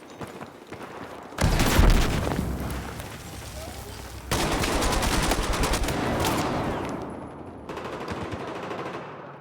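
Gunfire and blasts from a grenade in the video game Battlefield, loud bursts of machine-gun fire and booming impacts rolling through about nine seconds, with a brief dip near the end before the firing resumes.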